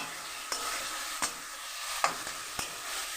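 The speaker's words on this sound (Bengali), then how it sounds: "এবার এটাকে আমি ভালো করে কষতে দেব মশলাটাকে" Spice masala of salt, chilli powder, turmeric, black pepper, tomato and ginger-garlic paste frying in a pan, a steady broadband sizzle broken by four sharp scraping stirs, close and alone without talk.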